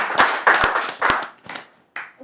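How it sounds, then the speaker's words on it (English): A studio audience at a couples game show claps in several short bursts, with loud overlapping handclaps that swell, fade to near silence and then pick up again briefly before dying away. "A round of applause for her,"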